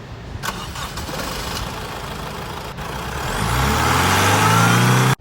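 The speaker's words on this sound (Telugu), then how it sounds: "ఇంజిన్ పరంగా చూసినట్టయితే సింగిల్ సెల్ఫ్కే స్టార్ట్ అవుతుందండి, చూడండి" A 2015 Honda City SV car engine starts on a single crank of the self-starter: a steady starter whir, then the engine catches and rises into a loud, close idle that holds to the end.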